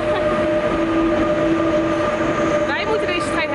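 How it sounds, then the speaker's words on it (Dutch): A train pulls into the station at Schiphol Airport with a steady loud rumble, a sustained tonal whine and clattering rails, and voices talk faintly underneath. "Er komt een trein aan"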